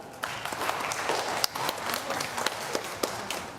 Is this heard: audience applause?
yes